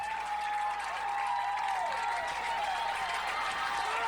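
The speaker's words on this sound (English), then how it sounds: "a standing ovation here for the Salina Central Mustangs, giving the fans something to cheer about" Football fans give a standing ovation for the Salina Central Mustangs at a high school game against Goddard Eisenhower, a steady, dense wash of clapping and crowd noise with faint whistling running throughout.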